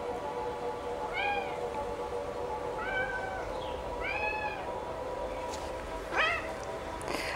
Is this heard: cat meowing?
yes